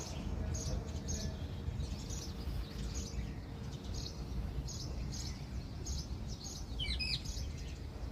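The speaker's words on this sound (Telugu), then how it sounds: "పక్షుల కిలకిల రావాలతో" Small birds chirp at sunrise in short, repeated bursts over a low rumbling background, faint and somewhat distant, with a quicker trill near the end.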